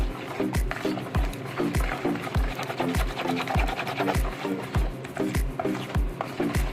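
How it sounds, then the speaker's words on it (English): Whisk beating liquid into a Jamaican-style sweet potato pudding mix in a bowl, a steady rhythmic series of close, repeated strokes with a thudding pulse about twice a second, no talking. "Gradually put your liquid in and you just mix. You just whisk."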